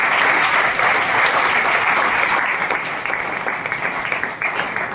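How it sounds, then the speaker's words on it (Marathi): Loud, sustained applause from an audience at a felicitation ceremony honouring a newly appointed official, a dense continuous roar of many clapping hands that stays strong throughout. "जोरदार टाळ्या।"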